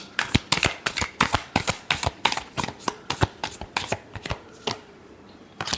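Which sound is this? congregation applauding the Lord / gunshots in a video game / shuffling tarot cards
shuffling tarot cards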